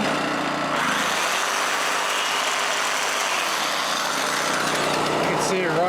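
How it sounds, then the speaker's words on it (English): A Honda EM650 generator, restarted after sitting unused for 21 years, runs smoothly close by with a continuous, even buzzing drone that holds steady throughout. "put it back in, and well, this thing runs perfect now. No choke or anything."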